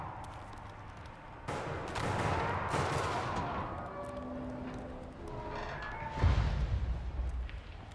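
Bursts of gunfire from the video game Unknown 9: Awakening, a few sharp loud cracks and rolling reports at middle distance, with one heavy blast near the end and no one speaking.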